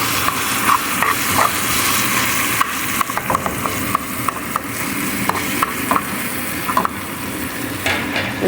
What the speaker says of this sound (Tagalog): Haluin. Hanggang lumambot yung kamatis.